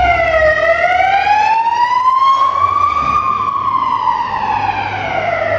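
Emergency siren wailing loud and close, a single rising and falling tone sweeping slowly up then down, steady with low background rumble and no talk.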